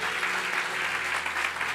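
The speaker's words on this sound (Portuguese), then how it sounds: "Você pode aplaudir ao Senhor nessa noite" A church congregation applauds steadily during an evening service, a dense, even wash of clapping that fills the space without pause and carries no speech.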